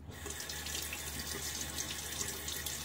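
Water runs steadily from a bathroom tap for rinsing after a shave with a safety razor, a continuous close splashing hiss with no talking.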